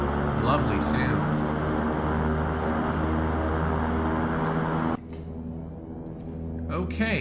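A King Air 350 turboprop engine in X-Plane 11 drones loud and steady with a high whine, then drops abruptly to a lower hum partway through before rising again near the end.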